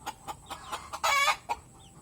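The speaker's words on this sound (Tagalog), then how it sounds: "Malaking manok." Chickens, including a large Aseel rooster, cluck nearby in a quick series of short clucks, broken by one longer, louder squawk in the middle, then a few more clucks.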